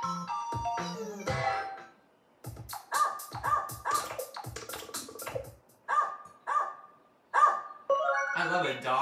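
Cartoonish dog barks from the dog costume in Wii Music, a series of short, bright, musical woof notes repeating in an irregular rhythm with brief pauses between them, clear and close.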